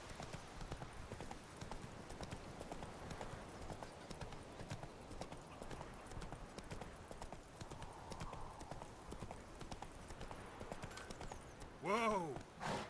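Roach, the horse in The Witcher 3, gallops in a fast steady clip-clop of hooves throughout, moderately close, ending in a short whinny-like burst near the end.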